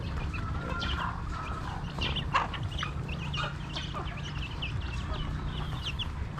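Native and Rhode Island chickens clucking steadily nearby, with soft overlapping clucks and scattered bird chirps over a constant low farmyard hum.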